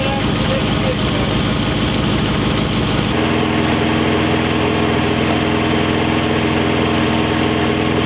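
A forgotten VW Beetle's engine runs steadily after its first start, a loud continuous rumble that shifts pitch about three seconds in and keeps going, with voices faintly present.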